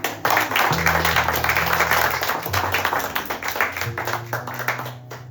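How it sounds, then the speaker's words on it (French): A church congregation claps steadily and densely for several seconds during a sermon, with a low sustained tone from music or an organ underneath, fading slightly at the end. "Et applaudis-toi toi-même."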